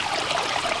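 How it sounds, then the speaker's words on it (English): Water spilling over the main spillway into a gravel-lined wildlife pond, a close, steady splashing trickle with no other sounds. "Here's the main spillway where the water is spilling into"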